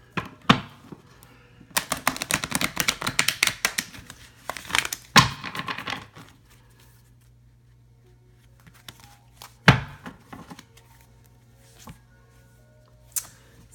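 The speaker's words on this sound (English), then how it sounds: "One more shuffle. I like to shuffle them good." Oracle cards being shuffled by hand at close range, bursts of riffling, flicking and slapping card noise from about two to six seconds, with a few sharp single taps later and quiet pauses between.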